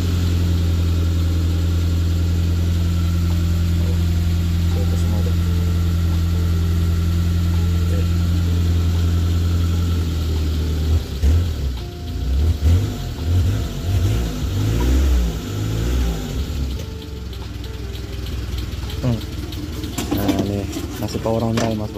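Engine of a 2004 Suzuki Futura GRV van, first idling steadily with a low hum, then revved repeatedly in uneven surges that rise and fall, close and fairly loud.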